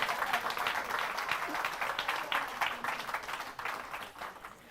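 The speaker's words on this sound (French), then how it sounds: "Yes, clap for me." Church audience applause during a bilingual English-French sermon in France: continuous, fairly faint clapping with dense irregular hand strikes runs throughout, fading a little near the end.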